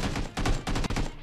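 Gunfire in the battle-royale game PUBG, a dense run of rapid shots in several bursts, loud and close, with no talk over it.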